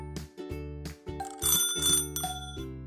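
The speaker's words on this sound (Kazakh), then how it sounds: "Велосипед" A bicycle bell rings several times in quick succession, with bright, clear metallic dings that sound close and loud. No voices are heard.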